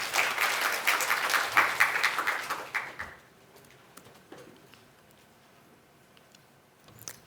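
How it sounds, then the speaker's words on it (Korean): Conference audience at PyCon Korea 2019 applauds a speaker's introduction, a bright burst of many clapping hands for about three seconds that fades quickly into near silence, with a few scattered claps and a faint thump afterward. "그럼 큰 박수 부탁드리겠습니다"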